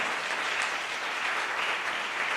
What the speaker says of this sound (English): Really give her a big round of applause